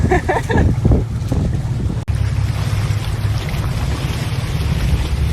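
Loud, steady engine roar and rushing water from a motorboat racing alongside another boat on rough sea in the English Channel, with wind buffeting the microphone throughout.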